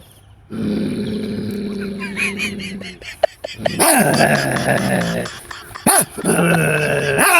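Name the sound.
man imitating two dogs fighting, barking and growling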